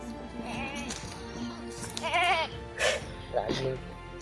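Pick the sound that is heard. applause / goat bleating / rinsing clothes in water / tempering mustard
goat bleating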